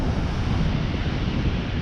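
Ocean surf at El Cotillo's Popcorn Beach, a steady loud rush of breaking waves blended with buffeting wind on the microphone, continuous and close with no voices.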